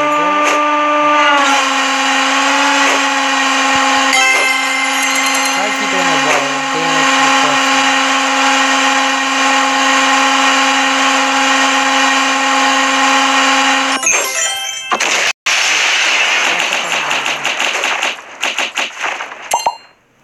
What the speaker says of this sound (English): crush things with a hydraulic press